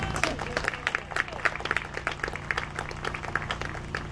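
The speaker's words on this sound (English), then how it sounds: "let's just give him a round of applause" An audience applauds, a dense patter of many hands clapping at moderate distance, steady with scattered louder claps and a low murmur beneath.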